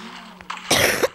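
A single harsh cough bursts out close to the microphone after a faint hum and a quick breath, followed by a short second catch in the throat.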